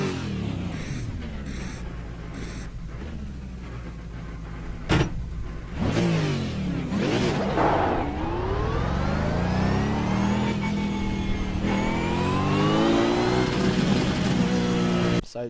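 V8 Supercar engines in the iRacing simulator, with a steady engine drone followed by repeated sharp revving sweeps that climb and fall as the car accelerates and shifts, loud and close with no talk.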